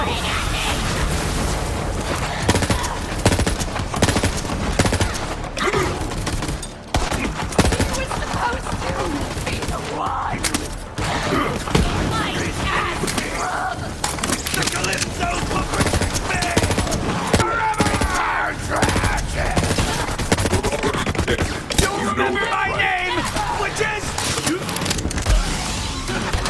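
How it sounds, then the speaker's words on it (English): Dense, sustained gunfire fills a Borderlands 3 firefight, with rapid bursts, booms and explosions running loud and unbroken throughout, and a voice shouting over the combat at times. "Stop shooting at me!"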